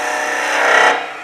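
Skew chisel cutting a wood spindle on a lathe, a loud, close, continuous whirring shear lasting about a second before fading out, with no talk.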